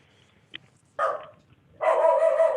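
A dog barks in two bursts with a faint yip before them, fairly close and loud against a quiet indoor background with no talk.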